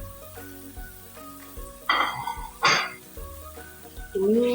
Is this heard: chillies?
yes